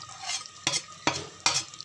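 Spices stirred into a cooking pot of softened tomatoes for chicken yakhni pulao: three firm scraping strokes of a spoon against the pot over a light sizzle, close and clear, no talking.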